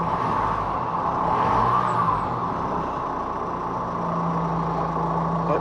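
Engine of a 2007–2018 Jeep Wrangler JK revving up under acceleration with no throttle controller active, a steady close rumble that rises slightly in pitch and stays loud throughout.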